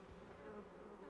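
Honeybees crowding together at the hive make a soft, continuous buzzing hum, steady and fairly faint, with no voices.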